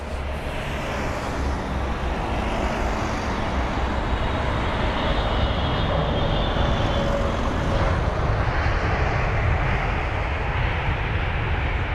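A Kuwait Airways Boeing 777 airliner, registered in 2016, at London Heathrow gives a sustained, fairly loud jet rumble with a rising whine that holds throughout, with no voices.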